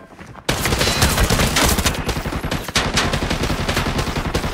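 Sustained automatic gunfire in Arena Breakout rattles in rapid, dense bursts that are close and loud, starting abruptly and barely pausing throughout.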